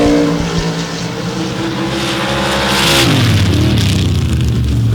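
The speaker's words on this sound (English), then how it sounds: "the 91 Blazer with the 632 cubic inch big block Chevrolet built by Ring Racing and John Conkle" Drag race launch of a 1991 Blazer with a 632 cubic inch big block Chevrolet in a Super Stock shootout: a loud, close engine roar that climbs in pitch and then drops partway through, with no talk.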